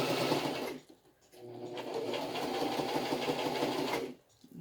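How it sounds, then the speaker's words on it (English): A sewing machine stitches a homemade HEPA filter fabric face mask, running in a steady fast whirring drone with a brief pause near the start and a slowdown near the end. "It's going to sew right on."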